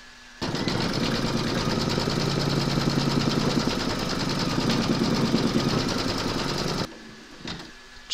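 A sewing machine stitches a round of a quilt block in dark blue thread, running in one loud steady burst close by for about six seconds, then stopping.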